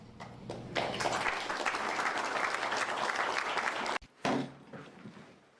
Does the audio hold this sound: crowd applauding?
yes